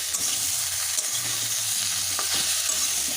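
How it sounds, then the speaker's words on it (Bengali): Vegetables with turmeric powder sautéing in a pan for a bata fish curry with potato, papaya and raw banana: a constant close hissing sizzle with soft stirring scrapes and no voices. "হলুদের গুঁড়োটা দিয়ে একটু কষিয়েই"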